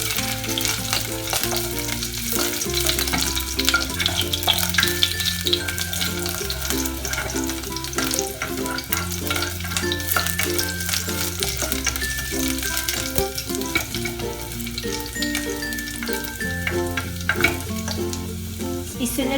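Sautéed ginger sizzles steadily in a pan for oatmeal congee, with stirring running through the whole stretch under loud background music.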